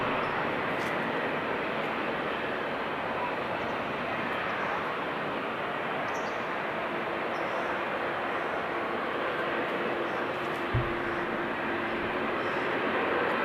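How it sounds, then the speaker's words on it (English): KLM Boeing 787-10 airliner crossing at Amsterdam Schiphol Airport, a steady moderate broadband engine rush and rumble that stays even throughout, heard without any talk. "Get a nice crossing with the KLM 787-10."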